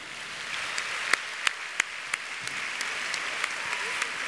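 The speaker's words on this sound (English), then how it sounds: "a round of applause" An audience at a World of Warcraft arena finals applauds steadily, a dense wash of clapping with a few louder individual claps standing out, lasting several seconds.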